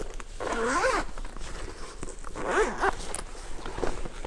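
A zipper on a Nomad Lane Bento Bag pulled open in two or three quick zips, close and fairly quiet, with light handling rustle of the bag between pulls.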